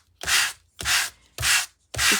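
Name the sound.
sanding card with a sandpaper block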